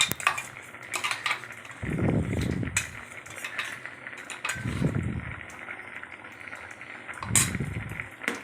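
A spoon stirs ground sesame paste into a vegetarian curry of yellow pea lentil fritters, potatoes and spices in a pot, giving three heavy, wet churning bursts among light metallic clinks and scrapes, with no talking.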